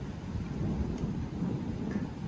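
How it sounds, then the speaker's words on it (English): Pouring rain during a lightning storm with high winds in the Northeast, a dense steady roar of rain with deep low rumbling, loud and continuous without speech. "It is pouring rain outside right now."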